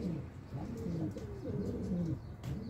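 Domestic pigeons coo close by in low, soft, rolling phrases that repeat continuously through the short clip, with a faint chirp or two in the background.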